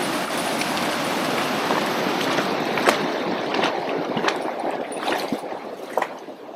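Stream water flowing down from a pond near the Ratti Gali base camp, a steady broadband rush and trickle that holds throughout with small splashes, close and fairly loud with no voices.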